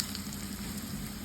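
Curry leaves dropped into hot oil in a pan, a steady, dense sizzle and crackle heard close up, alone and unbroken.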